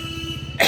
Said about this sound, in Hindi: मेरी खांसी ठीक नहीं हो रही पिछले 1 महीने से